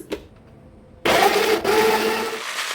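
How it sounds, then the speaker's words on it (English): An electric blender whirs loudly, blending milk, two eggs, a ripe banana and vanilla, starting abruptly after a quiet moment and running steadily with a brief dip partway through. "I blended it all until smooth"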